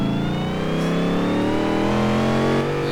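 A Rolls-Royce in Forza Horizon 3, heard from the interior, revs its engine in one long, loud, continuous pull with the pitch climbing steadily.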